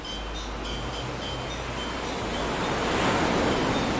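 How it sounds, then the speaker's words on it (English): Ocean waves on a white sand beach in northeast Bali near Amed, a close, continuous rushing wash of surf that swells slightly louder toward the end, with some wind in the background. "Great waves for swimming in it."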